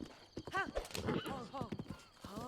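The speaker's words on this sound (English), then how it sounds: "Why did you go off the beaten path, horse?" A horse neighs and whinnies with clip-clop hooves while galloping off the path in a modded Breath of the Wild game, the whinny loud and close over the background game sounds.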